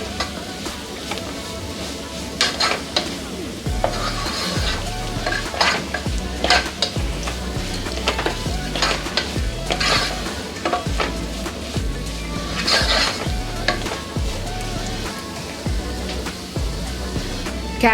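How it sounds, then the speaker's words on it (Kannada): Garam masala being stirred into capsicum palya frying in a pan, with a steady sizzle under repeated scraping strokes of a spoon against the pan, close and continuous with no talk. "ಗರಂ ಮಸಾಲಾನು ಕೂಡ ಹಾಕ್ಕೊಂಡು ಮಿಕ್ಸ್ ಮಾಡ್ಕೊಳ್ಳೋಣ."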